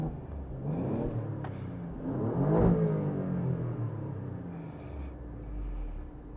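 A 2024 Alfa Romeo Giulia Quadrifoglio engine revs in race mode, its loud rising and falling rumble swelling to a peak mid-way and then settling into a steady idle-like drone, with no talking.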